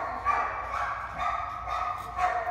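Puppies at an animal shelter give faint, scattered yips and whimpering barks. The sounds are thin and somewhat distant, in a reverberant kennel room.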